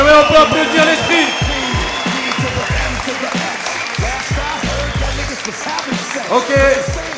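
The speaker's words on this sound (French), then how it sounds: "on peut applaudir l'esprit" Audience at a boxing match applauding steadily, a dense crowd clapping with a ring announcer's voice talking over it.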